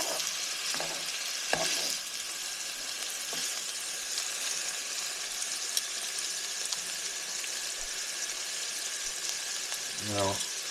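Chicken pieces fry in oil in a skillet with a loud, continuous sizzle throughout, broken by a few sharp utensil taps and a brief scrape near the end.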